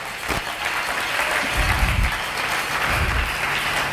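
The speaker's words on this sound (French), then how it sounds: "Acclamons très fort" A church congregation breaks into loud, sustained applause that swells slightly midway, dense clapping from many hands filling the room.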